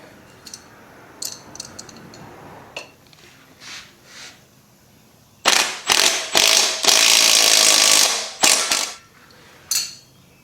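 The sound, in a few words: impact wrench tightening bolts on a 1994 Honda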